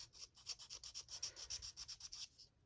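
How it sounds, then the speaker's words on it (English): Light sanding on a painted miniature furniture piece from a kit, a quick series of soft, rhythmic rubbing strokes, about a dozen close and faint, ending after a couple of seconds. "So I'm going to do some slight sanding, and then I'm going to do another layer of paint."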